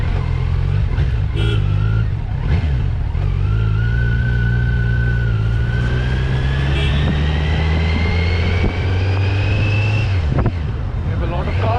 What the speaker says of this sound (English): just listen to the sound of that inline four